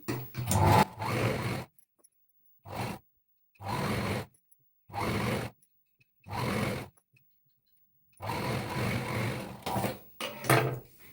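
A sewing machine joins two layers of a kids' lehenga at the waist in several separate runs. Each short burst of stitching comes close and fairly loud, with pauses between bursts and a longer run near the end. No one talks.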